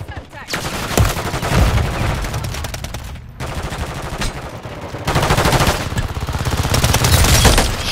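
Rapid automatic gunfire from a gun in the video game Stash House, loud sustained bursts broken by a brief pause, then resuming heavily before cutting out.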